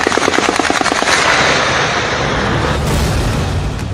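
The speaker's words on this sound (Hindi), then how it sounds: "मुजफ्फराबाद में विद्रोहियों पर ओपन फायर।" Rapid bursts of automatic gunfire from open firing on protesters at the Neelum Bridge area of Muzaffarabad, loud and sustained, with crackling shots rattling in quick succession and a heavier burst near the end.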